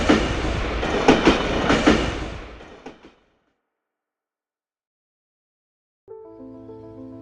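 A train rumbles along the rails with rhythmic clacking for a few seconds, fading into silence before a brief tonal sound begins.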